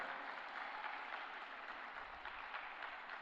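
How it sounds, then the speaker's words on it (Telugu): A church congregation breaks into sustained clapping applause, a dense, even patter of many hands heard from within the room with no voices over it. "గట్టిగా కొడదామండి చప్పట్లు"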